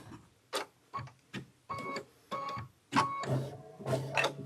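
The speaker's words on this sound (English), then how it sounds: "why is it stitching the watermelon first?" An embroidery machine stitches a watermelon quilt block design, producing a series of about nine short, bursting mechanical whirring runs with brief pauses between, close and fairly quiet with no talking.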